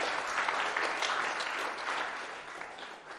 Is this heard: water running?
no